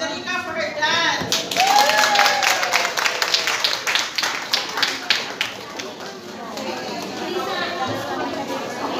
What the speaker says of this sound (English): Let's give a round of applause for Federica for her dance